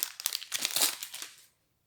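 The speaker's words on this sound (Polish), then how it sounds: "otwieramy tą saszetkę" A foil sachet of Euro 2020 football stickers is torn and crinkled open, a quick burst of close, crisp crackling that stops abruptly after about a second and a half.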